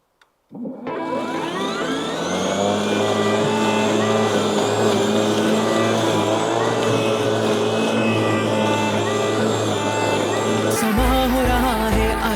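A ProCraft PLM 22 cordless battery lawn mower spins up and runs with a loud, steady electric whir and hum. The sound stays constant and close, then shifts abruptly near the end.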